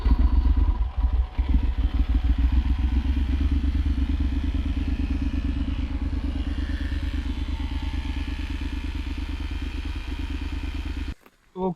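A motorcycle engine idles loudly and close with a rapid, even chug while a portable compressor inflates a punctured tyre, a few thumps early on, then the engine cuts off abruptly near the end.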